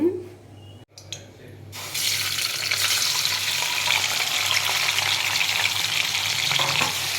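Prawns fried in oil in Konaseema coastal style royyala vepudu: after a brief clatter, a loud, continuous close sizzle of hot oil sets in and holds steadily for several seconds, with no talk over it.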